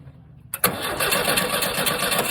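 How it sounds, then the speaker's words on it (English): A sand rail's engine cranks on its starter with no spark reaching the plug: after a short quiet moment a sudden loud burst turns into a steady, continuous mechanical churning that never catches. "And you're going to crank the starter, and we're going to see if that lights up."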